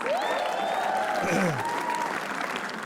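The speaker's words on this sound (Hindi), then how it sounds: "तालियां उनके लिए प्लीज" Steady applause from a comedy roast audience, continuous and fairly full throughout, with whoops and cheering voices riding over the clapping.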